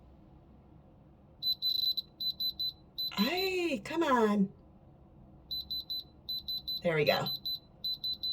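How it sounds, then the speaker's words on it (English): A handheld diamond tester beeps in short repeated bursts against a jewelry stone, a quick train of bright electronic pips that pauses and resumes, with someone talking over it in between. "hear that calmer beep? That is the sign that you have a diamond"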